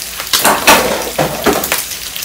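Pork frying in a pot for a Jamaican-style corn pork dish, giving a steady close sizzle with bursts of crackling spatter and a few soft clinks of utensils against the pot, no talk.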